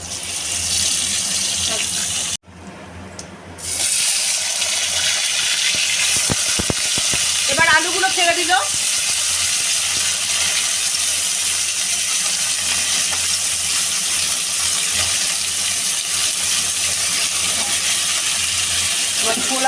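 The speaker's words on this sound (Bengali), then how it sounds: "কড়াতে সর্ষের তেল দেওয়া হলো জিরে দিলাম তিনটে শুকনো লঙ্কা দিলাম আর তেজপাতা দিলাম" Cumin, three dried red chillies and a bay leaf hit hot mustard oil in a kadai. A loud, steady sizzle and crackle runs throughout after a brief dip near the start, with a few spits and pops.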